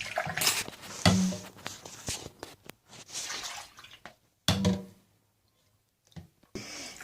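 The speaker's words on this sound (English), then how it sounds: "So you rinse everything. Everything in hot water to reduce any" Cheese-making utensils are rinsed in hot water, giving intermittent close splashes, trickles and clinks in bursts separated by short quiet gaps.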